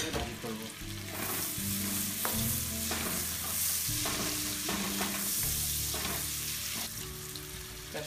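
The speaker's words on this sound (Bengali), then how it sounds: "বাটারটা গলে গেলে আমরা পেঁয়াজ দিয়ে দিব এবং তেজপাতা, এলাচি এবং দারুচিনি দিয়ে একসাথে ভাজি করব" Onion, bay leaves, cardamom and cinnamon fry in melted butter, a loud continuous sizzle with a spoon stirring and scraping the pan at a steady rhythm, close up with no speech.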